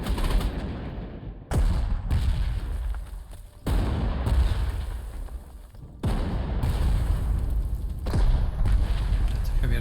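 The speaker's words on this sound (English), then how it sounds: "That's a heavy artillery." Heavy artillery fire in the Panzer Corps 2 war game: repeated loud booming blasts with long rumbling decays, roughly five heavy impacts at intervals of about two seconds over ten seconds.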